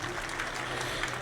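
Applause from a crowd at an India alliance election rally in Chomu, Rajasthan, a steady wash of clapping filling the whole short stretch, moderately loud and continuous.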